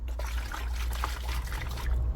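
Water sloshes and trickles inside a Skyline R32 GTR oil cooler part as it is moved, a steady close liquid gurgle with no talking.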